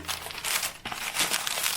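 Paper wrapping crinkles and rustles close up in irregular bursts while a Hermès item is unboxed.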